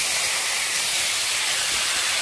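Drained taro leaves dropped into hot oil in a home kitchen, giving a steady, loud, close hiss of sizzling that holds evenly throughout with no talk.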